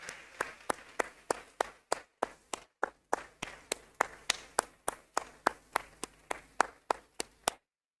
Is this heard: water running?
no